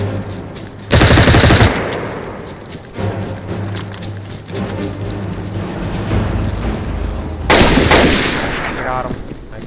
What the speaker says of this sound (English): I'm hearing shots, straight.